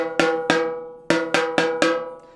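Five ringing metallic taps on a snare drum, each strike decaying slowly, struck in an uneven rhythm with slightly differing pitches.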